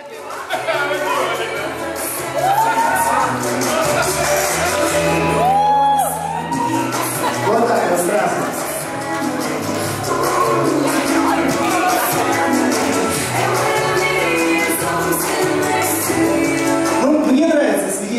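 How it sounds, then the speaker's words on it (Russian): Wedding guests at a Russian-speaking reception applauding and whooping for the witnesses, a loud sustained crowd of clapping, cheers and shouts with music playing underneath. "Аплодисменты, свидетели."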